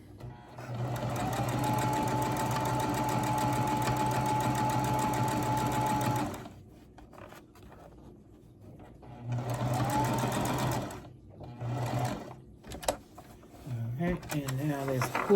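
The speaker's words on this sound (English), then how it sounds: "And I'm going to do a double stitch." A sewing machine double stitching: one long, steady whirring run, a pause, then a shorter run and a few brief stop-start bursts, with quiet handling sounds in the gaps.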